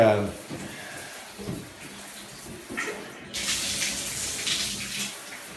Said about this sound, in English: You got good water flow in the bath.